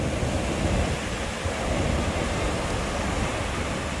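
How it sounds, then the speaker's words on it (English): Sea waves and tides at Dhanushkodi roll and wash continuously, a broad, loud surf roar with no pauses and no voices. "See the tides, one after another."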